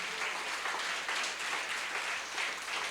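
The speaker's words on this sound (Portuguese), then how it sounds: "Aplauda o Senhor Todo-Poderoso." A church congregation at a retreat applauding in worship, a moderate, steady patter of clapping from a room of people, fairly soft and even throughout.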